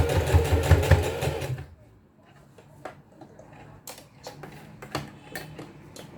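Domestic sewing machine backstitching in reverse, a fast steady stitching burst at the start, then quieter scattered ticks and handling clicks of the machine.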